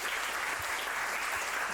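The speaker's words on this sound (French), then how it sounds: "on peut les applaudir, merci" Steady audience applause at a youth summit in France, dense and continuous clapping from a large crowd throughout, fairly distant and even in level.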